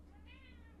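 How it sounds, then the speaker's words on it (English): A house cat gives a single drawn-out meow, faint and slightly distant, over a steady low electrical hum in an indoor recording space. "I suppose I best let the cat out"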